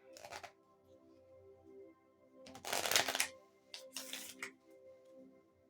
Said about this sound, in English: still shuffling over here.